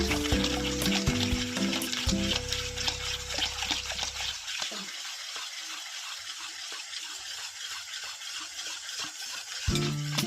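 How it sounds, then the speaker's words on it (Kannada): A spoon stirs curd rice in a bowl, giving a soft, wet, continuous squelching and scraping close up, with a faint humming tone underneath at the start. "ಸ್ವಲ್ಪ ಮೊಸರನ್ನ ಚೆನ್ನಾಗಿ ಮಿಕ್ಸ್ ಮಾಡ್ಕೊಳ್ಳೋಣ"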